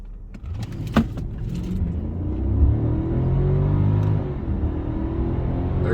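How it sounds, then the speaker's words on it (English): A 2007 Mercedes-Benz S550 4Matic sedan accelerates from a standstill toward 60 mph. The engine note climbs in pitch and loudness, then settles into a steady, heavy rumble heard from inside the cabin, with no talking. "I'm going to do a real quick 0 to 60."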